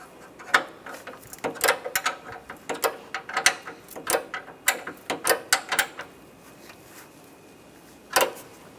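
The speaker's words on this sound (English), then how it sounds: "using a wrench, just tighten the last one down" A ratcheting wrench tightens a bolt during a radiator replacement on a 2010-2016 Cadillac SRX, with bursts of sharp clicking strokes in quick, uneven series, close up, then a pause and one last burst.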